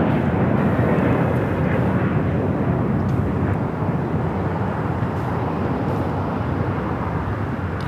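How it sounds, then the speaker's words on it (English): A loud, steady roar of jet engines from an Asiana airliner pulling in at LAX fills the air as broadband rushing noise that holds without a break, with no voices over it. "So Asiana pulling in between the China Airlines A350 and the Emirates A380"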